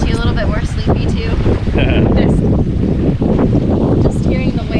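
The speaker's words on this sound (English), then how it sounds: "Just hearing the waves, but it's been nice, no engine." Ocean waves wash around a sailboat drifting with its engine off in Channel Islands Harbor, a steady wind-blown sloshing that stays loud and close throughout, with voices talking over it.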